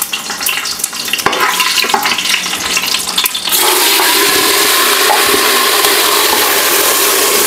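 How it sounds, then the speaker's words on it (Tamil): Mint leaves go into a hot pan for tempering, and after a quieter stretch of kitchen clatter a loud, steady, hissing sizzle suddenly rises and holds to the end. "புதினா இப்போ வந்து தாளிப்பு போட வேண்டியதுதான்"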